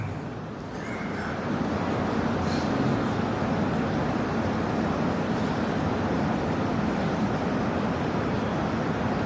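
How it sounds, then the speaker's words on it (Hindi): Steady broadband whoosh of an electric fan running in a room, continuous and fairly loud throughout, with a faint brief sound near the start. "फैन की आवाज़ सुन रहे हो"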